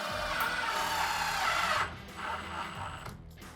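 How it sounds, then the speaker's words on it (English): A power driver sets GRK 2-inch trim screws into a cabinet face frame, a loud steady whirring run that cuts off, followed by a shorter, quieter burst. "what I'm using here to attach the face frame to the filler is a GRK 2-inch trim screw"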